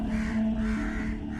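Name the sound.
crow cawing, story sound effect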